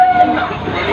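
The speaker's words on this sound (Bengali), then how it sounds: "ট্রেন এসে গেছে" A commuter train pulls into a station on an office commute, a steady rumble and broadband rail noise with a brief high tonal whine early on, close and fairly loud over about a second.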